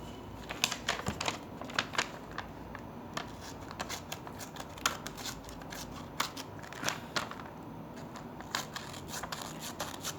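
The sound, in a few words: scissors of Victorinox EvoWood walnut multitool cutting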